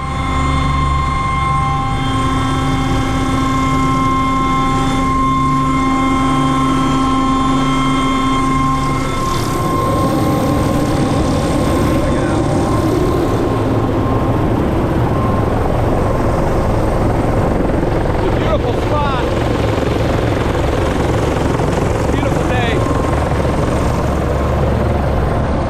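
A helicopter sitting on a ridge with its engine brought down to idle, a loud steady turbine whine and rotor drone with tonal hums that shift and drop partway through, constant and close with no talking.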